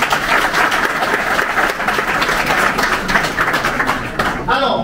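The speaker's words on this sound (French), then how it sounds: "Est-ce qu'on peut applaudir pour les travaux?" Applause from an audience at a startup conference session in Dschang, a steady dense patter of many hands lasting several seconds, loud and continuous, with voices mixed in and a brief dip near the end.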